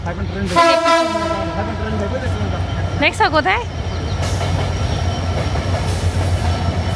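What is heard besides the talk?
train passing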